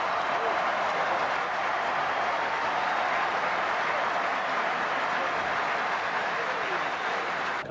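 Capacity crowd applauding at a Sydney cricket test match during the 1974-75 Ashes series, a steady broadband roar of clapping and crowd noise sustained throughout at even loudness.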